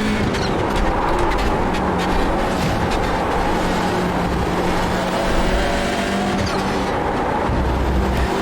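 Hyundai Elantra race car engine at Spa-Francorchamps in the iRacing game, a loud, continuous drone that holds steady throughout, with a brief shift in tone near the end.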